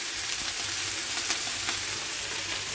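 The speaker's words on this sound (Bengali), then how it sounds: "ওই তেলে আমি বসিয়ে দেবো কেটে রাখা মাশরুম, আলু আর পেঁয়াজ" Mushroom, potato and onion fry in hot oil in a pan, a steady close crackling sizzle with occasional soft pops and no talk.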